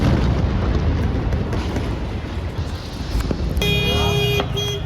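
Air strikes on Beirut produce a dense, continuous roar of low rumbling booms and blasts, loud and sustained, with a sharp crack near the end and a tonal whine layered over the final second.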